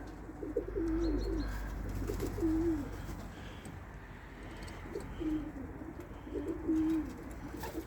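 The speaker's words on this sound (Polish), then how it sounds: "są kolejne gołąbki." Pigeons coo in soft, low rolling phrases, several bursts spaced a few seconds apart, with faint outdoor background noise and no talking.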